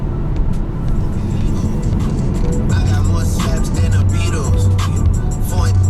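A London Electric Vehicle Co electric campervan drives along with a steady low road and motor hum and tyre noise throughout, fairly loud inside the cabin, with a voice talking faintly at times.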